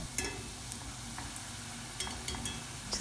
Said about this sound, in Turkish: Kızgın olan yağın içine minik rulo parçalarımı koyuyorum.